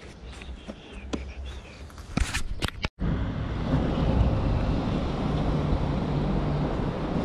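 Black Sea waves and wind on the shore at Batumi, Georgia; after a few seconds of close handling clatter, a steady loud rush of surf and gusting wind fills the rest.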